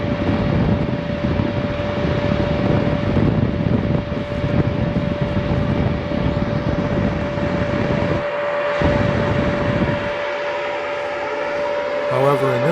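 A continuous rushing roar of water heater exhaust through a 3-inch pipe with a steady tonal hum, briefly dropping away near the end before resuming.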